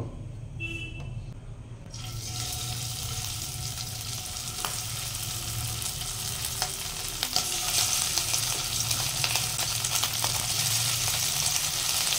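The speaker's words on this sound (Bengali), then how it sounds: "এবার আমি এখানে একে একে চিকেনগুলি ভেজে নেব।" Chicken pieces shallow-frying in hot oil in a kadai for hot butter garlic chicken, a steady close sizzle and crackle that swells after a quiet opening second, with occasional sharp pops and no talking.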